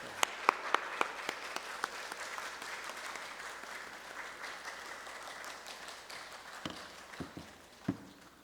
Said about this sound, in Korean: 나오실 때 큰 박수 한번 할까요?